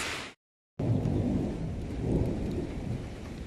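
Steady rain pours down in Bucharest, Romania, with a low rumbling undertone, continuous and fairly close, after a brief moment of silence at the start.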